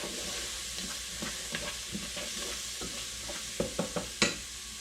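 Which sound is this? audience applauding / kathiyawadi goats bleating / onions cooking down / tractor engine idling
onions cooking down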